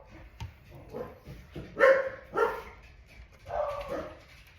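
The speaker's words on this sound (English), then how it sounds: "I don't even need to go look at what they're barking at because they bark at anything" Several dogs bark in short bursts, a few sharp yips followed by louder overlapping barks, fairly near.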